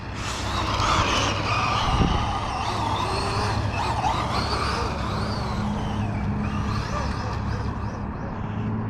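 Traxxas Maxx Slash RC truck running at full throttle, a steady broad whine and rush of motor and tires held loud throughout, with a brief bump near two seconds and faint voices underneath.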